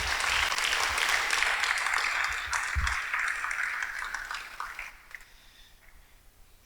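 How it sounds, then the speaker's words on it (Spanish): A church congregation applauds in a full, loud round of clapping that gradually thins and fades out near the end. "Todavía le puedes dar un aplauso al rey"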